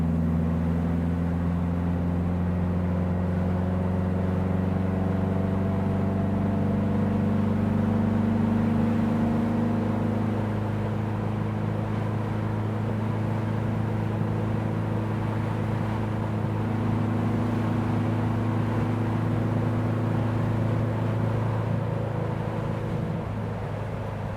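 A 1960 Porsche 356 Abarth tribute cruising on the road, a close, steady engine drone that holds for a long stretch with only slight shifts in pitch and no voices.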